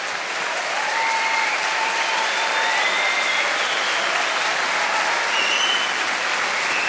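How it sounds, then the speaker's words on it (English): Sustained, loud audience applause fills the whole stretch evenly at the close of a performance, with faint whistles or cheers riding over it. "ladies and gentlemen, keep the applause"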